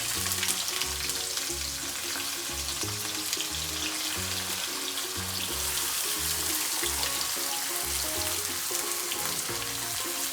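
Chopped onion hits a pan of whole spices for paneer bhurji and fries in a steady, close, dense sizzle for the full stretch, over a low repeating tonal hum in the background.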